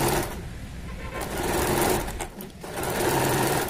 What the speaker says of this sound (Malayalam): അപ്പൊ ഇതിന്റെ ഒരു അരിക് വശം നമുക്ക് ഇതുപോലെ തയ്ച്ചെടുക്കാം.